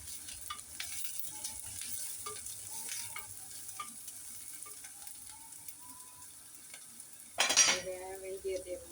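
Spices and fenugreek being sautéed in a pan for a curry, with soft sizzling and scraping stirs, clinks of a spoon against the pan, and a sharper clatter near the end.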